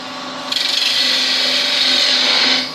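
A wood spindle spinning on a lathe as a gouge rolls through the cut, a loud steady rasping hiss that starts abruptly and holds for a couple of seconds before easing off, alone without talk, at a woodturners' club demo.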